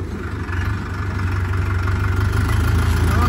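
A tractor engine runs steadily at idle, a loud, even low-pitched rumble with a rapid chugging pulse throughout, close by and with no voices.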